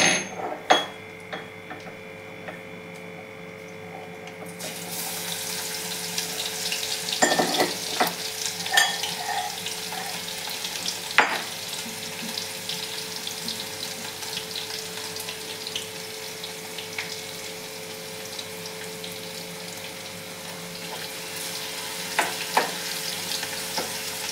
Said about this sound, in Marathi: लसूण थोडं गरम करून घ्यायचंय, आपलं गरम लाल होऊन द्यायचं आहे, लालसर झालं पाहिजे.